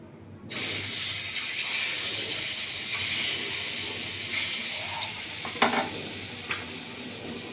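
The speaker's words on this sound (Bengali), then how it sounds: "এবার আমি ছোট্ট ছোট্ট আকারে ছোলার ডালের বড়াগুলো ভেজে নেবো" Small chickpea lentil fritters frying in hot oil in a pan, a steady close sizzle and bubbling throughout, with a few faint clinks of a utensil near the end.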